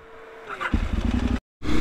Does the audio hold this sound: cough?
no